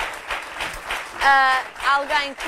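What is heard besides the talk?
audience applause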